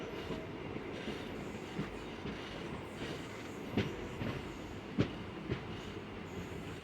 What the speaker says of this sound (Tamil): வண்டி பார்த்தீங்கன்னா டிபார்ட் ஆகிடுச்சு